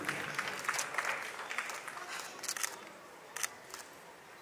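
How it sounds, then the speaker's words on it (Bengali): Audience applause at an award ceremony honouring women, a dense steady clapping that swells and fades with sharper bursts, close and loud throughout. "একটা জোরে হাততালি হয়ে যাক"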